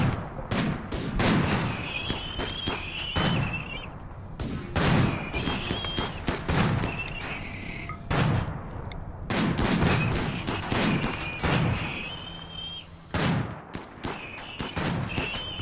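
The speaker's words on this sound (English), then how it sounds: "let's all fire on the ones closest" Colonists in the video game RimWorld open fire together, producing repeated bursts of gunshots in an irregular rhythm across the whole stretch, loud and close, with game tones and sounds between the volleys.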